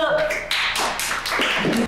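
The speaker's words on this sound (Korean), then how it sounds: "자 박수!" A few people clap in quick, close, crisp bursts mixed with lively talking and laughter nearby.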